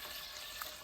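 A cherry jam and demi-glace sauce bubbling in a pan at a bit more than a simmer, a steady soft sizzle and hiss with faint pops and no voices.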